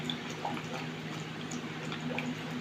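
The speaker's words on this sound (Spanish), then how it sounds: "voy a empezar sacándole el agua al coco" Water trickling and dripping steadily from a freshly opened tender young coconut as it is drained, a soft continuous liquid patter close by with no talk.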